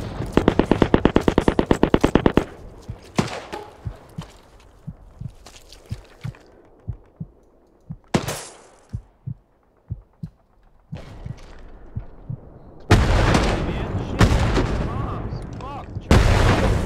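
Gunfire in the World War II shooter Hell Let Loose: a fast automatic burst up front, then scattered single cracks and distant shots at irregular intervals, with heavy loud blasts near the end and voices talking between.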